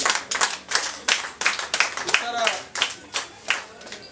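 Guests clapping at a wedding reception, a short run of hand claps in uneven bursts with voices mixed in underneath.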